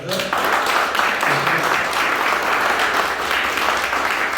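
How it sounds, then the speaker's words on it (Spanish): Sustained applause from a congregation at a Sunday church meeting honouring mothers on Mother's Day, a steady, moderately loud wash of clapping filling the room from start to finish. "Así que un aplauso para el Día de la Madre."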